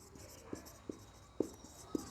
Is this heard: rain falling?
no